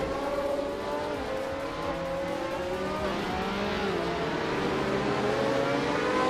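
Racing cars in a game race drone and accelerate together, with several engines whining at rising and falling pitches as they jostle close by, steady and loud throughout.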